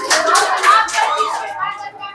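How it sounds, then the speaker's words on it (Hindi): Students in a physics classroom clap together in a loud, close, rapid burst that lasts about one and a half seconds, then fades, with children's voices mixed in. "वेरी गुड, इसके लिए ताली बजाओ।"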